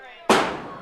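A single sharp fireworks bang bursts out at a baseball game, loud and close, following a brief faint hum and decaying over a moment.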